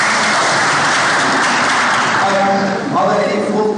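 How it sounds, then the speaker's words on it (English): Audience at a Muslim-versus-Humanist debate on the need for God applauds in a steady, loud, dense wash of clapping that fills the hall throughout. "Can we give a round of applause for knowing how to form a question?"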